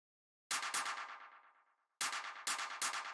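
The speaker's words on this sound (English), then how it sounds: "This is a pretty simple, just kind of like delay clap." Clap sample from an acid techno track, sharp bright hits each followed by quick sixteenth-note delay repeats that decay into a trailing tail, two bursts separated by a short gap, alone.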